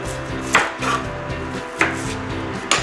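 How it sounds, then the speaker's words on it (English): A knife chops an onion on a cutting board for soup, with a few sharp, separate thuds spaced about a second apart over a steady background hum. "Alright, so I'm going to start chopping up my onion here."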